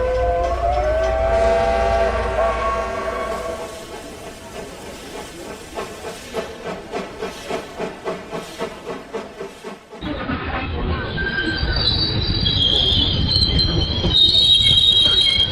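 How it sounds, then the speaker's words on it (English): Steam train pulling into a station, wheels squealing in long shrill tones, then a rhythmic clatter of carriages slowing, followed by a loud hiss of released steam. "We'll miss the train, run!"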